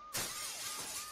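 Glass shatters in the point-and-click game Dead Synchronicity: a sudden bright crash followed by a tinkling spray of shards, layered over a wailing ambulance siren that keeps sweeping up and down throughout.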